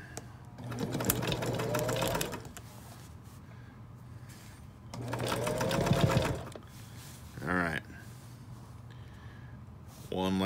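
A sewing machine running in two sustained bursts of rapid, humming stitching, close by, with a short mechanical whir near the end and no speech.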